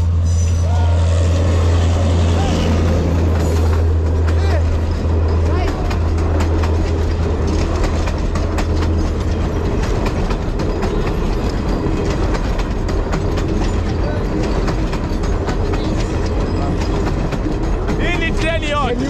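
A long train rolling through a rail yard in Nairobi, Kenya, with a loud continuous rumble, clanking wheels and metallic squeals, close by and sustained throughout, with people talking over it.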